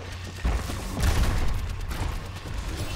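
Overwatch gunfire rattles through a busy mix of in-game sound, rising in a dense volley about halfway in and continuing steadily at moderate loudness.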